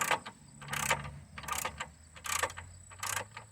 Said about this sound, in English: I'm just going to crank until she starts to crank down